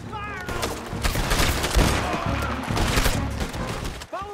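Dense, continuous gunfire fills a video game shootout, with overlapping rapid bursts and volleys close by, brief whistling tones and a few faint voices in the mix.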